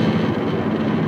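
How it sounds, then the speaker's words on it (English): Steady low droning hum inside a moving Subaru Impreza on the highway, a continuous buzzing vibration from the rear with road rumble underneath, loud and unbroken throughout. "The buzzing noise in the back's happening again"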